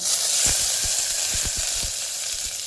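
Curry leaves and asafoetida crackling in hot oil inside a pressure cooker while tempering, a steady loud sizzle broken by several sharp low pops and spits, close up with no talking.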